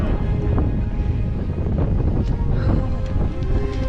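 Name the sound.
wind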